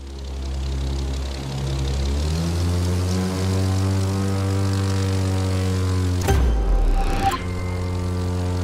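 Propeller airplane engine in The Crew 2 droning loud and close, pitch climbing steadily as it throttles up, with brief rushing bursts late on before the steady drone resumes.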